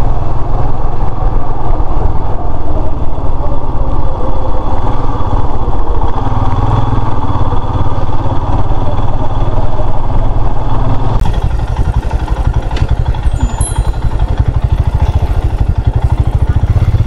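A motorcycle rides through tea gardens between Tezpur and Manas, giving a loud, steady engine drone mixed with heavy wind rush throughout, close to the rider and without talk.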